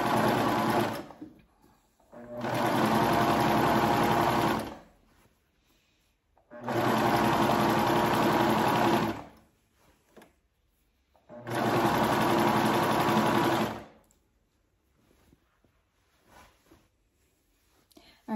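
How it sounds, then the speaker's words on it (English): A serger sewing machine gathers fabric for pants cuffs, running in three loud steady bursts of rapid whirring stitching, each a few seconds long, separated by quiet pauses. "You just lower your presser foot and then you just let it pull through your machine and it gathers it right up."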